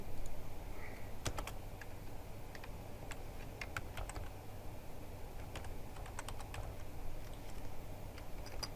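Someone types on a computer keyboard in irregular bursts of clicky keystrokes, moderately close, over a low steady background hum.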